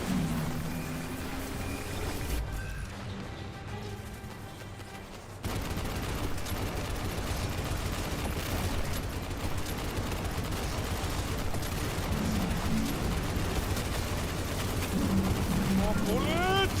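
Dense, continuous gunfire from the video game Destiny 2 rattles on in rapid bursts, briefly dropping away before surging back even fuller and louder for the rest of the stretch.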